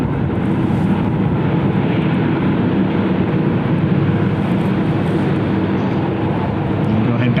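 An airliner at Cleveland Hopkins airport on a chilly day gives a steady broadband engine roar that holds at an even level throughout, with a voice talking over it.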